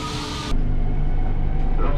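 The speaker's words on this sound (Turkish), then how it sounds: "İtalyan treni geliyor." An Italian metro train on a Rome line arrives at the station, its rumble swelling abruptly into a steady, loud, close rolling roar with low mechanical drone.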